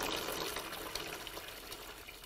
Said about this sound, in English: this thing is still draining water out of the oil pan